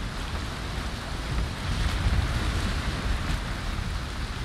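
Stormy, violent ocean waves and rain in the Valheim video game, a steady broadband roar of surf and rainfall that swells louder midway and stays dense throughout with no voices.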